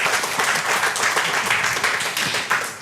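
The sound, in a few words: audience applause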